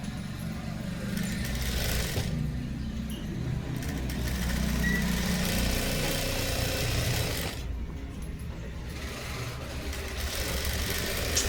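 A sewing machine stitching thread piping onto a blouse, a continuous steady motor hum and whir running almost unbroken at moderate volume, dipping briefly once near the end of the run.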